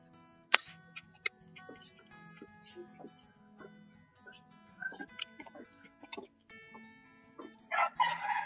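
Kadaknath chickens at a poultry farm cluck and cackle in scattered bursts, with a crow-like call and a louder flurry of squawks near the end, moderately close with quiet room tone between calls.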